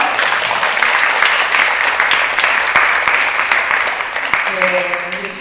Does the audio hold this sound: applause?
yes